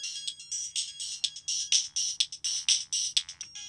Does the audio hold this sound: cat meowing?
no